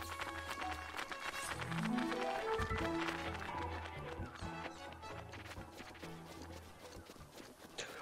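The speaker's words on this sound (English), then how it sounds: "I can finally summon my horse back." A horse in the video game The Legend of Zelda: Breath of the Wild gallops back when summoned, its rhythmic hoofbeats clear and close under game music, with a brief vocal sound along the way.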